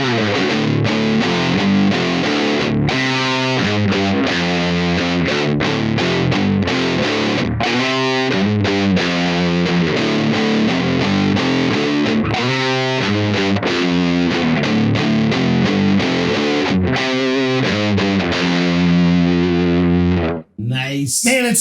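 A Stratocaster electric guitar played through a ProCo Rat distortion pedal, loud and continuous with thick, saturated chords and riffs, stopping briefly near the end.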